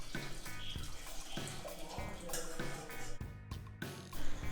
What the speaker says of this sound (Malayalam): അപ്പോൾ ഇച്ചിരി വെള്ളം ഒഴിച്ച് ബാക്കി അരപ്പും കൂടെ നമുക്ക്